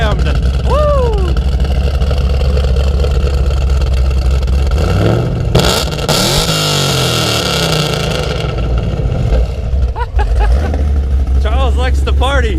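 A cammed fifth-generation Chevrolet Camaro with a custom-grind LMR cam and a cold air intake idles with a deep, loping rumble, then revs up and falls back in a loud sweep. Excited voices talk and cheer over the engine throughout.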